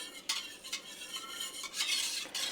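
A whisk stirs homemade keto yogurt in a bowl, making soft, repeated swishing strokes with light scraping, close and quiet, with no one speaking.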